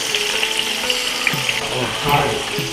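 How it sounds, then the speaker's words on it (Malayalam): Chicken alfaham frying in a pan over a high flame, a dense, loud sizzle and crackle throughout, with a few brief clinks and a soft swell of hissing near the end. "ഹൈ ഫ്ലെയിമിലാണ് ഇത്രയും നേരം പൊരിച്ചുകൊണ്ടിരുന്നത്"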